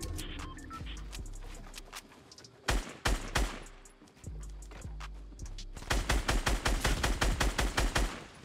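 Gunfire in the Fortnite Battle Royale video game, with scattered single shots early on, then a fast, loud string of rapid repeated shots toward the end, close and sharp.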